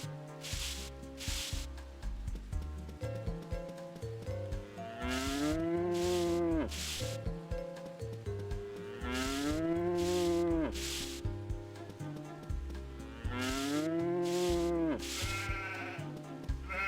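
A cartoonish cow moos repeatedly in the Harvest Moon Magical Melody farming game, three long, drawn-out lows rising and falling at steady intervals over a light, bouncy musical backdrop.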